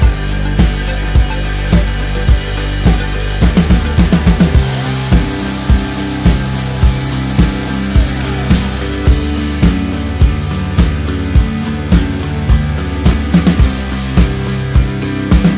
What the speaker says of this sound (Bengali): টুকরো করা স্টিকগুলিকে একের পর এক ড্রিল করে নতুবা সোল্ডারিং আয়রন দিয়ে ছিদ্র করে